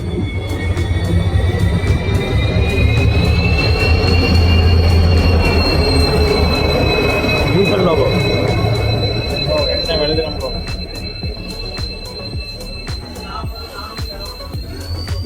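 An electric train passes close by with a loud rumbling roar and long squealing wheel tones, easing off toward the end with rhythmic clicking as the carriages roll past.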